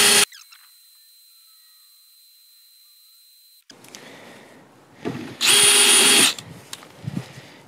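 An Alpen cobalt drill bit driven by a power drill, heard as a sharp spin-up at the start, a quiet stretch, then a short, loud burst of drilling near the end.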